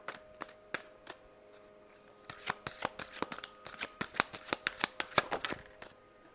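A deck of oracle cards is shuffled close by, giving quick papery riffles and snaps in an irregular, accelerating run of sharp flicks, with no talking.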